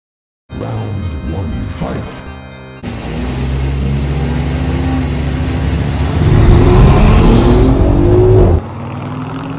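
An Audi Q5 Stage 3 and an Audi SQ5 rev and accelerate hard in a race, the pitch climbing as they speed up, loud and close, after a brief burst of noise at the start.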